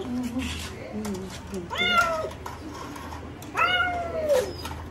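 A black cat shut in a cage gives two drawn-out, rising meows a couple of seconds apart, fairly close, over low background noise and faint murmuring.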